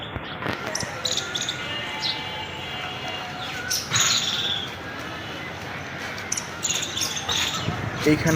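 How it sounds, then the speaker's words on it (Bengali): Birds at the Bangladesh National Zoo in Mirpur, Dhaka, give scattered, fairly faint chirps and tweets over outdoor ambience, footsteps and occasional knocks. "এখানে পাখির কিচিরমিচির শব্দ আপনাকে অনেক"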